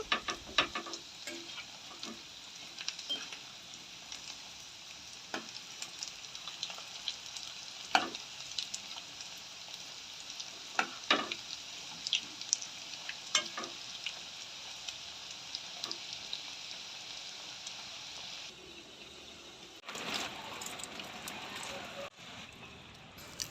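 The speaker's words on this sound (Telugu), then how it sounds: "ఇలా కలుపుకుంటూ చక్కగా వేపుకోండి పకోడీ అయితే రెడీ అయిపోయినట్లేనండి" Pakoda frying in oil while being stirred gives a continuous soft sizzle with scattered clicks and scrapes of the spoon, on a rainy day, with occasional speech over it.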